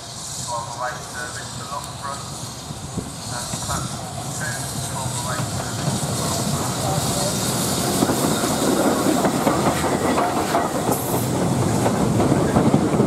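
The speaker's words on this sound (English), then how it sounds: "With a train bound for Loughborough now, Oliver Cromwell arrives into Cornham Woodhouse Station." The steam locomotive Oliver Cromwell, hauling a train bound for Loughborough on the Great Central Railway, rolls into Quorn and Woodhouse station with rumbling wheels, clickety-clack over rail joints and steady hiss, growing louder as it nears.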